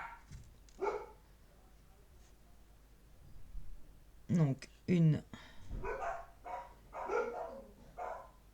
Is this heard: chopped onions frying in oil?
no